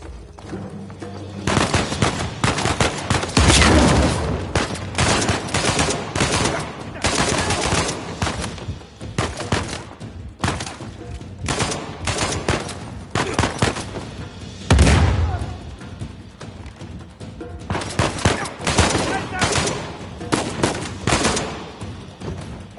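A firefight in the video game Uncharted 4 crackles with bursts of rapid gunfire and heavier booms, loud and dense in uneven clusters with short lulls between, some shouting mixed in.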